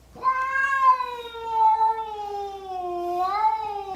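A single drawn-out cat yowl, loud and close, wavering in pitch for about four seconds.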